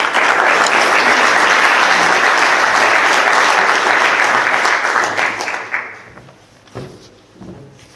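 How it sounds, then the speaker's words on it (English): Loud, sustained audience applause at the 25th FBD Young Farmer of the Year Awards 2023 for the Irish Farmers Association president. The clapping is dense and steady for about five seconds, then quickly tapers off into a few scattered claps. "Will you give a big round of applause to Tim Culdown?"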